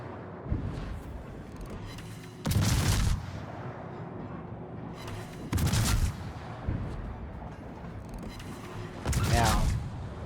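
Heavy naval guns from enemy cruisers boom in a video game, three loud broadband blasts spaced a few seconds apart, with a steady engine-like rumble between them.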